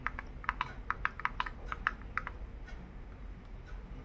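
Typing a search term on a keyboard: a short, irregular run of crisp, close key clicks that thins into a few softer taps over a quiet background.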